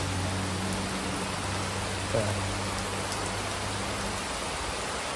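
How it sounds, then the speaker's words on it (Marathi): Heavy rain pouring down steadily around a house under construction, a dense even hiss at moderate level with a low hum underneath and no talk. "तर तुम्हाला आता आवाज पण येत असेल मला वाटते पावसाचा"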